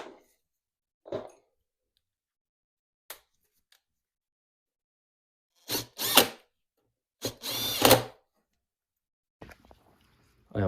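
A power tool drives bolts into a Honda EU1000i inverter generator, including plastic parts, in several short whirring bursts separated by quiet gaps, close to the microphone, with a few brief clicks and handling noises.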